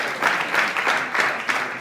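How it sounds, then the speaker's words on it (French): Audience applause at an award ceremony, moderately loud with a rhythmic, pulsing clap pattern that swells and dips over a short burst. "Est-ce qu'on peut applaudir bien fort pour Linda?"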